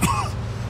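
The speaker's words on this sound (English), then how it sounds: "Every time I cough, it feels like I'm being stabbed in the chest." A single short, rough cough from an injured video game character, close and loud, followed by a brief raspy trailing breath.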